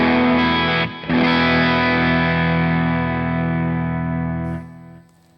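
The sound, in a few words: electric guitar with overdrive and stereo delay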